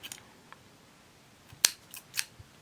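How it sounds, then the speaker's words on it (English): Scissors snipping crochet yarn, a few sharp, crisp clicks of the blades closing close to the mic, with the loudest cut in the middle and quieter snips around it in an otherwise quiet room. "I need to sharpen my scissors."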